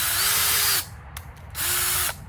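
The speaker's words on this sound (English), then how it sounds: "when I reverse the drill and back it out the actual proper way instead of just pulling it up, a lot less soil comes up with it" A power drill runs in reverse to back an auger out of soil in a zone 4 hoophouse, with two close, loud whirring bursts separated by a short pause.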